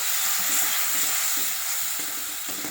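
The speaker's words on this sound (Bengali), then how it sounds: "ভালো করে আমি মশলা, আলু সব কিছু কষিয়ে নেব।" Spice paste of turmeric, chilli and cumin powder frying with potatoes for a fish curry, making a continuous loud sizzle with soft stirring scrapes underneath.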